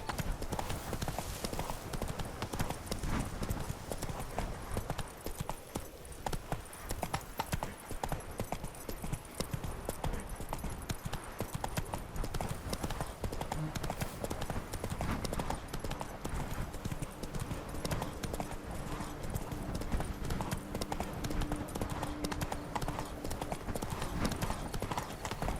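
Horse hooves clip-clop steadily in The Witcher 3: Blood and Wine, a continuous rhythmic trot running the full length under game ambience and music, with a faint whinny possible.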